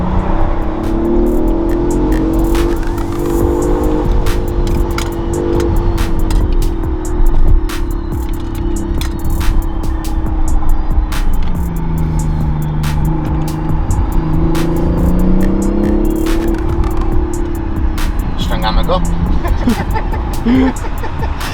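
A car drives through a city centre in Spain, a loud steady engine drone with shifting pitch as it speeds up and slows, while people talk inside over it.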